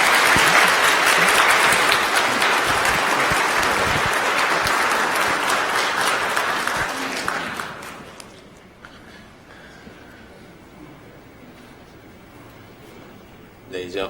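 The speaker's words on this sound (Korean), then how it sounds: "여러분들 큰 박수로 축하해 주시기 바랍니다" Warm applause fills a church for children's department graduates, loud and sustained for several seconds before fading into quiet room noise.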